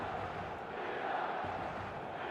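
Stadium crowd in the football video game eFootball, a dense, steady roar of many voices at constant level with no distinct chants or individual words.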